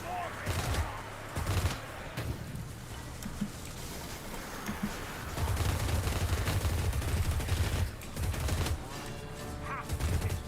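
Dense, rapid gunfire from a gun in Vermintide 2, continuous bursts and crashes in a chaotic fight against Skaven, with voices talking over the shooting.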